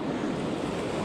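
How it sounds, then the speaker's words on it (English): Ocean surf with waves washing in, a steady broadband rush mixed with some wind noise, heard close and continuous with no talk. "Oh, the waves there."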